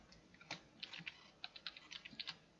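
Code is typed on a computer keyboard in a quick, uneven run of light, close key clicks with no talking.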